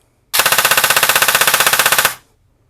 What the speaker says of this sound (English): and I do a couple bursts in full auto